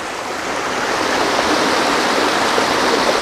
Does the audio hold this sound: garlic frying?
no